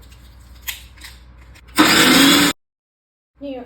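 A mixer grinder crushes tamarind, ginger, salt and dried chilli in one loud, steady burst of under a second, then cuts off sharply into silence, with light handling clatter before it.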